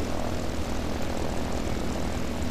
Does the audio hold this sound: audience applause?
no